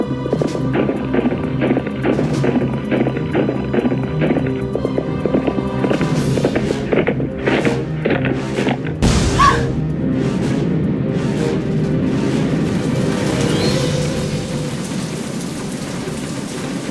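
A pump house explodes in a Nancy Drew ranch mystery game, a sharp blast and crackling roar breaking through steady rain-like hiss and rumble, after a run of rhythmic galloping hoofbeats.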